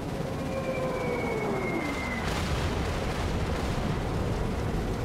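Airstrike explosions in the video game Cepheus Protocol: a continuous loud rumbling roar of blasts with a descending whistle at the start, dense and sustained, no voices.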